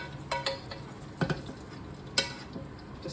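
Peppers and courgettes sizzle in rendered meat fat in a frying pan, with a low steady crackle under a few sharp scrapes and clacks of a utensil stirring against the pan.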